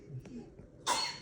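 A woman gives a single sharp cough near the end, loud and close, after a moment of faint background noise in a workshop.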